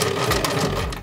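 A sewing machine runs a straight stitch in one short continuous whirring burst, close and fairly loud, with a steady mechanical buzz and no voices.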